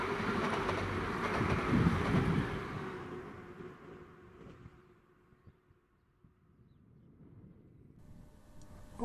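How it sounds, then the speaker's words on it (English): A Grand Central Class 180 diesel train on the down Stamford line passes close by, a loud rumbling roar with rail noise that fades steadily into the distance before a faint new rise at the end. "now Grand Central 180 approaching on the down Stamford line"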